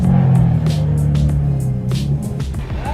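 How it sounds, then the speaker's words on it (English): BMW E46 M3 driving on the road, a steady loud engine rumble and drone with slight shifts in pitch, heard from inside the car with no talk over it. "I'm driving Greg's car today."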